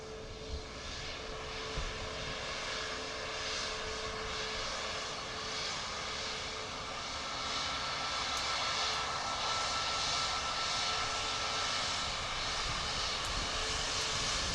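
Aircraft engine roar at Dublin Airport as a plane passes, a steady broadband rumble with a faint tonal whine, continuous and moderately loud for the whole stretch, no talking.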